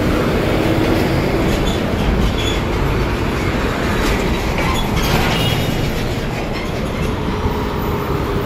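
A light rail train at J. Ruiz LRT station rumbles steadily along the tracks, with a constant loud roar and faint rhythmic wheel clatter throughout, no voices.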